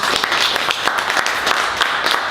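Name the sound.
audience applause at a book reading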